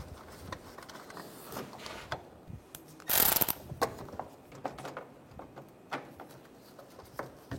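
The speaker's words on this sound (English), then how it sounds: "And we'll tighten that bolt down." A bolt tightened down over a stud with a wrench, producing repeated ratcheting clicks and metallic handling noises with a louder rattling burst near the middle, all close up with no talking.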